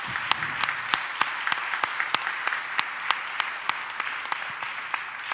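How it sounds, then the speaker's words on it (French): Applause for a colleague at a political party's general council, a moderate crowd clapping with distinct sharp claps standing out over a steady patter, heard at some distance. "une main d'applaudissement pour notre collègue Jean-Marc Fournier"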